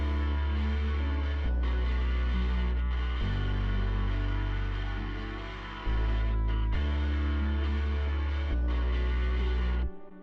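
The bass and lead melody of a simple beat play without drums: a deep, sustained bass line shifting notes every couple of seconds under a bright, layered lead, loud and continuous with brief dropouts.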